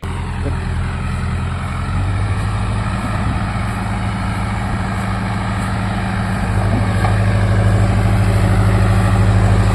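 A 2024 Bull SD 76 backhoe loader's engine runs steadily and close by, a continuous low diesel drone that grows slightly louder toward the end, with no talking.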